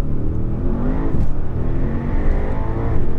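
A Brabus S800 coupé with its pedal floored, engine roaring loud and continuous as it accelerates hard, the revs rising steadily with a deep, sustained drone.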